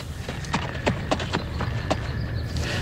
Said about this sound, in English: The final horse for this year's hits team is Thunder.